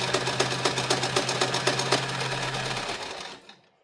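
A sewing machine stitches fabric nursing pads, a close rapid mechanical chatter with a steady hum, running for about three seconds before stopping into silence.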